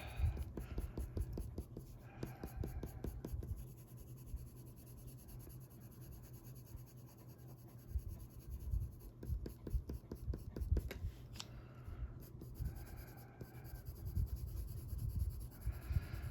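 Colored pencil strokes scratch across a greyscale fox coloring page, a soft, close, repetitive rasp in short up-and-down hair-like strokes, quiet and steady throughout.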